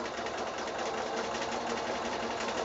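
A sewing machine stitching a quilted wall-hanging, a steady rapid whirring hum with an even mechanical rhythm, running continuously and fairly close with no talking.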